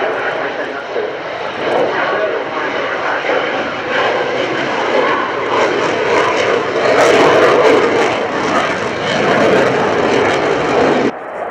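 A display aircraft at the RIAT Fairford airshow roars overhead, its engine swelling in occasional bursts of power over a continuous loud drone, with someone talking throughout.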